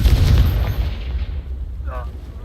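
A Confringo fire spell exploding in Hogwarts Legacy: a loud, close burst at the start that rumbles and fades over about a second, followed by a brief voice near the end.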